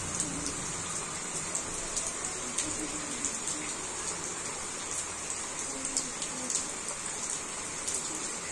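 Steady monsoon rain falls during the rainy season, a dense continuous patter with sharper drips striking nearby surfaces such as a tin roof, holding an even level throughout with no talk.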